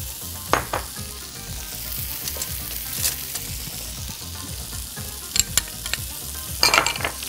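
Chopped onions soften and sizzle in a pan for a potato and legume salad, a steady close frying crackle with occasional stirring clatters and scrapes, no talk.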